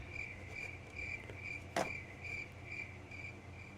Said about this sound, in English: that was me not realizing where the cricket sound was